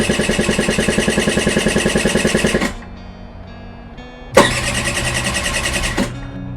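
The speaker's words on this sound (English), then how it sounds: "does the starter motor actually work?" A Honda Elite scooter's starter motor cranks the engine in two close, loud bursts of rapid whirring pulses separated by a short pause, with no voices.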